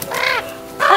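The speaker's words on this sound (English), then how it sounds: "Probably because there's a fucking crow hey!" A crow perched overhead caws in the horror game The Quarry, two loud, raspy calls in quick succession with a short gap between them.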